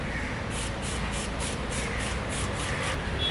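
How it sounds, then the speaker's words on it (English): Sonax wheel rim brush scrubbing a sprayed alloy car wheel, steady rhythmic swishing strokes of bristles, close and even, with no voice. "use your Sonax wheel rim brush to work on these leftover areas and get rid of all the muck"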